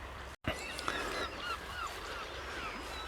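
A flock of gulls calls on the evening tide along a coastal path, several overlapping honking cries rising and falling at a distance over steady wind and surf noise.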